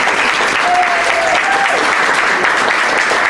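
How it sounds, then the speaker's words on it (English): Listeners at a storytelling event break into loud, dense applause that holds steady for a few seconds, with a brief whistle or cheer rising through the clapping. "I cannot resist giving a big round of applause for Leslie Bean for putting this together."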